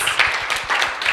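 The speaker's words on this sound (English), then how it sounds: "Let's give a hand of clap to our speakers" Audience at a church morning service clapping for the speakers, a dense, continuous round of applause from many hands, close and loud, with no voices above it.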